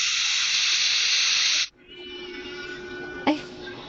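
A burger patty cooking on a grill in the restaurant game Burger Simulator: a loud, steady hiss that cuts off abruptly, then a softer sizzle with a brief sharp pop near the end.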